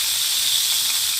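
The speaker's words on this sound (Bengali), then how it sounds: "এখানে প্রথমে পনিরটাকে আমি ভেজে নেব" Paneer pieces fry lightly in a pan, giving a steady, bright, close sizzling hiss that stays even and unbroken.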